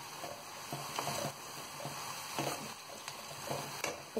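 Red chilli, turmeric and coriander powder stirred into a hot pan of frying coconut bhindi, soft steady sizzle under repeated scraping strokes of a spoon.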